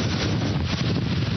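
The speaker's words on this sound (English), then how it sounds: "That's a wind gust right there." A hurricane wind gust during Hurricane Sandy roars steadily into the microphone, a loud buffeting broadband rush with no voices.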